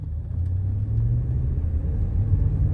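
A Ram pickup truck in sport mode, level 9, its engine given light throttle, producing a steady low rumble that swells slightly as it accelerates, close and continuous without talk.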